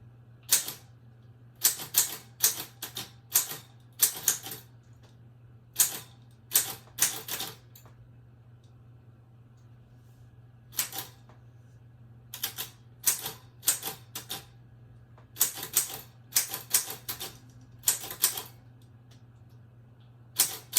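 Keys clack in quick bursts of typing, separated by short pauses, close and fairly quiet over a steady low hum, with no talking.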